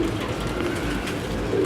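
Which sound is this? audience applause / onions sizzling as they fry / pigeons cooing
pigeons cooing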